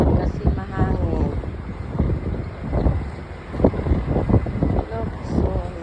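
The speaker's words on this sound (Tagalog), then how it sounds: "Maganda ito kasi mahangin." Gusty wind buffets the microphone on a house rooftop in a city, a steady low rush that runs under a person talking throughout.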